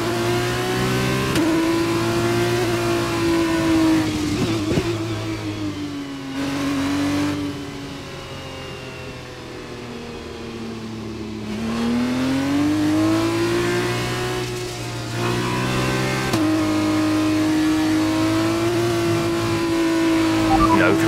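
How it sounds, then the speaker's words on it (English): A Formula 2 race car engine in a video game screams through its gears at Jeddah, with a loud, continuous whine that rises, drops sharply at each shift and climbs again, while a radio voice speaks over it at times. "We need to keep the engine cool though, so don't go too high with the revs."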